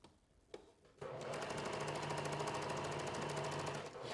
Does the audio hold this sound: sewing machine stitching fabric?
yes